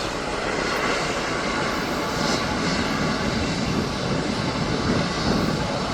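Aircraft at Birmingham airport, a loud continuous engine roar close by that holds steady throughout with no talk over it.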